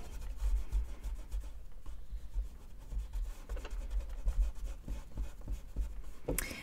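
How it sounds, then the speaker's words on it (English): Steady soft rubbing of a pencil eraser across paper, rapid back-and-forth scratchy strokes continuing close and quiet throughout without speech. "let's erase everything that you can see through the label."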